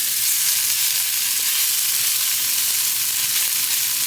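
Meat browns in an Instant Pot for Guinness Irish stew, giving a continuous bright sizzle and crackle of frying at close range, even and unbroken.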